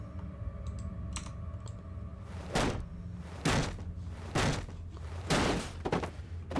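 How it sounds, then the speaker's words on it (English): Mechanical keyboard keys clack in several loud broadband bursts, roughly every second, over a steady low game hum with faint tonal background sounds. "I'm using my mechanical keyboard."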